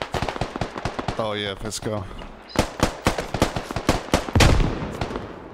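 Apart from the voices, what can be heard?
gunfire and grenade explosions in a video game (Squad)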